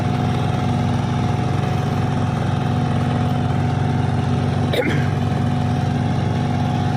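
A 20 hp four-wheel-drive three-cylinder ZL tractor engine runs steadily and loudly at a constant idle, a deep continuous drone with one brief knock partway through.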